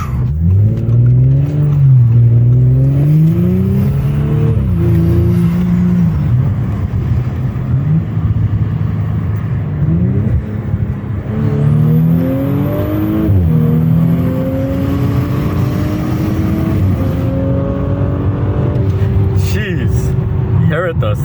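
A B9 Audi S5 fitted with an Injen cold air intake revs and pulls on a street run, its engine note rising and falling through several loud acceleration sweeps, heard from inside the car with light background noise.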